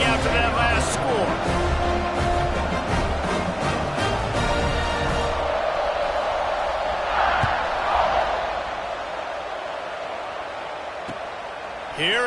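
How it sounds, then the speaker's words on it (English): A football stadium crowd buzzes in a dense, steady roar, with loud commentary over it at first that gives way to the broad crowd noise as the murmur settles slightly quieter toward the end. "this crowd is buzzing after that last score"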